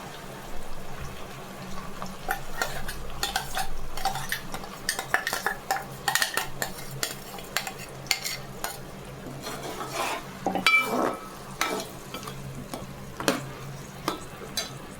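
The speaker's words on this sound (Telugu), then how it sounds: "ఇది కొంచెం బాగా దగ్గరికి కలుపుకొని వేగనిచ్చుకోవాలి" A spoon scrapes and clinks against a pan while an onion-tomato paste sizzles underneath, in irregular bursts of stirring without talking.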